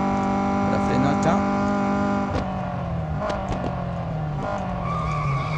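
A race car in Real Racing 3 brakes hard, tires skidding and squealing under a steady engine drone, with a few sharp knocks and someone talking over it.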